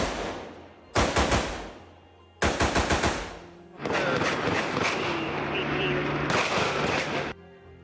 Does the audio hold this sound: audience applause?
no